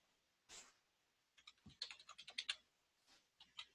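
Fingers type on a computer keyboard at close range, with a quick run of crisp key clicks in the middle and a few isolated taps before and after.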